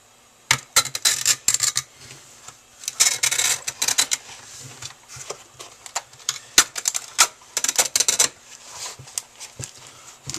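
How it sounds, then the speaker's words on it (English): Bursts of rapid mechanical clicks rattle off close by, in irregular clusters with brief pauses between, like a mouse or keys being hammered on a computer. "Start clicking shit on my computer."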